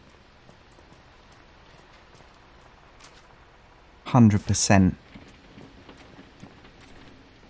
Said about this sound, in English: Why is it still raining in here?